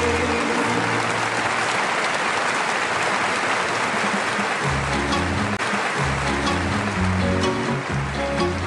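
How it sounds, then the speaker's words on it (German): An audience claps as one steady wash of applause at a live schlager show, with a tuba-and-brass band coming in partway through and playing beneath it. "Du hörst es am Applaus, es wünscht das ganze Haus."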